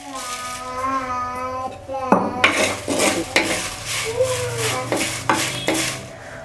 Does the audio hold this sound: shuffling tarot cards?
no